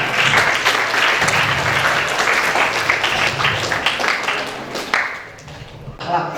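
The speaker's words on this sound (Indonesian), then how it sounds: "Tepuk tangan." A religious gathering's audience breaks into loud, full applause that holds steady and then thins out near the end, with a voice briefly coming in over the last of the clapping.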